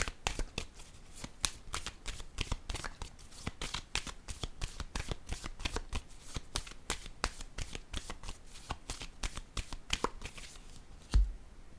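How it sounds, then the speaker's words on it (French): Cards from a deck are handled during a tarot-style card reading, a quiet run of rapid, crisp riffling clicks ending with one firmer thump as a card is set down. "Je vais déposer une carte en cette zone."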